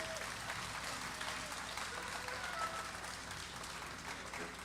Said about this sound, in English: Please give all the organizers of this event a round of applause.